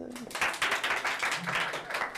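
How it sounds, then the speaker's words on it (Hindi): Students clapping in a Class 10 maths classroom, a short burst of several hands in quick uneven rhythm, fairly close and moderately loud, with faint voices mixed in. "ताली वाली बजा दो।"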